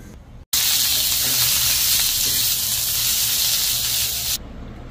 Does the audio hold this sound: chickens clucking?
no